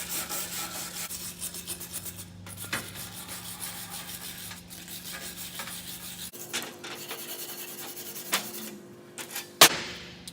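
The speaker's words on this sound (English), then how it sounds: "I'm gonna try to just get all the loose stuff off of here with a wire brush" A wire brush scrubs rust from an old J.H. Williams spanner in quick, uneven scratchy strokes, close-up and moderately loud, with a few knocks and a sharp clack near the end.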